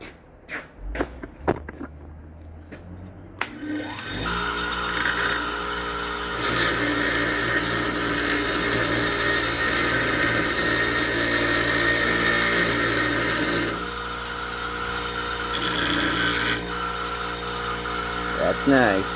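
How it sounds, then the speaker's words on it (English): A large grinder works on metal for a motorcycle kickstand, a loud continuous high whine close by that holds for most of the stretch after a few sharp knocks, with a voice briefly heard at the start. "Go to the big grinder."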